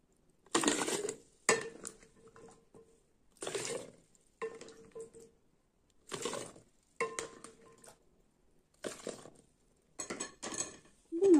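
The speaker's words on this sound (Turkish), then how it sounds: "Şimdi de 1 litrelik kavanozumuza zeytinimizi koyuyoruz" Green olives go into a 1-litre glass jar in bursts of clinking and rattling, several separate handfuls with short quiet gaps between them, close and fairly faint.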